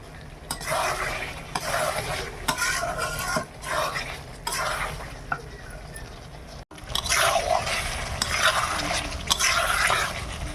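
Mutton pieces being stirred and sautéed in a pan for kosha, with steady scraping and sizzling, repeated stirring strokes, close and moderately loud, no talking.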